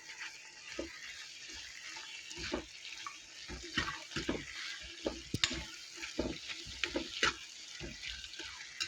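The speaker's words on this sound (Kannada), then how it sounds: "ಎಲ್ಲ ಚೆನ್ನಾಗಿ ಮಿಕ್ಸ್ ಮಾಡ್ಕೊಳ್ಳೋಣ." Chicken pickle being mixed in a pan in a home kitchen, with irregular wet stirring scrapes and soft sizzling spread across the clip, close by, with no talking.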